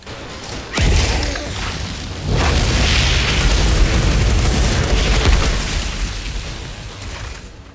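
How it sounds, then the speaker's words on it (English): Artillery shell explosions in the video game Outriders, deep booming blasts rolling one into another, loud and sustained, with a whooshing rumble between hits. "Wow, look at all these artillery shells."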